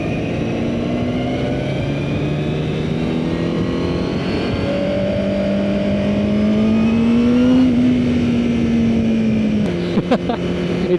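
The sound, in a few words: Honda CBR1000RR-R Fireblade superbike engine revving on track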